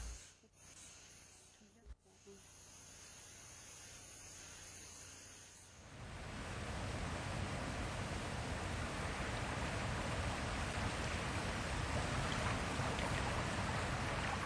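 A rain shower sweeps through a forest, a dense steady hiss of falling rain that swells in after a quieter, patchy opening and then holds loud and even to the end.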